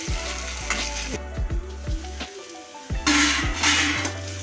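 Small onions frying with potato in a hot pan. A loud, close sizzle runs throughout, broken by repeated scraping stirs and light metallic clinks of a utensil against the pan.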